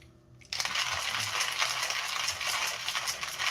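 Whole coffee beans crushed in a manual hand grinder, a steady gritty crunching and rattling that starts abruptly and continues close and loud without pause.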